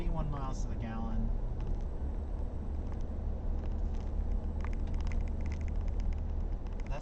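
Onboard a car cruising at light throttle during a Green Grand Prix fuel-economy run, a steady low engine and road rumble with wind noise continues throughout while people talk over it.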